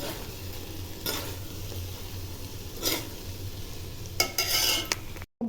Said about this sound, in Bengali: আমি অল্প ভাত দিয়ে হালকা করে এটার সাথে নাড়তে থাকবো